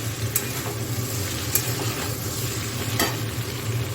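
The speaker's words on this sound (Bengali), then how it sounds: "দেখো অনেকটাই ভাজা ভাজা হয়ে গেছে" Vegetables fry in a little oil for a mola fish chochori, giving a steady close sizzle broken by a few sharp scrapes of a spatula against the pan.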